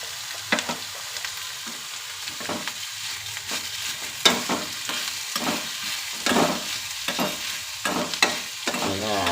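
Tomatoes cooking in a pan for a sundekai gojju, with soft frying under a series of irregular spatula scrapes and clanks, about a dozen stirring strokes close by.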